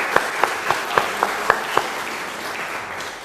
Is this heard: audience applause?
yes